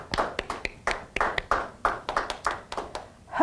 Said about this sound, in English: Let's give them a thunderous round of applause.